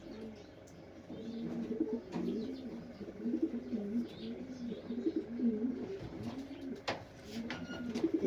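Racing pigeons coo in repeated low, throaty rolls that carry steadily through the whole stretch, with a few brighter chirps mixed in, all at moderate loudness and close by.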